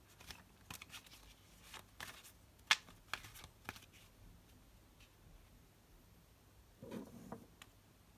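Tarot cards get shuffled in bursts of soft riffling and flicking, with a few sharper snaps and taps spread out unevenly, close and quiet with no talking.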